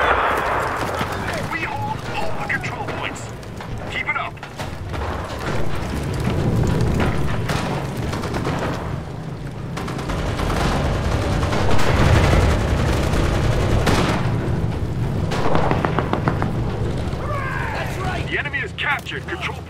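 Gunfire crackles in the video game Enlisted, with repeated shots and booming bursts throughout, mixed under steady talk from a player.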